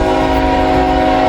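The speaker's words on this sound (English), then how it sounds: "must be an as-needed train headed to Sharonville Yard" An intermodal freight train passes close by with a steady, loud rumble and strong horn-like tonal drone held throughout, no talk over it.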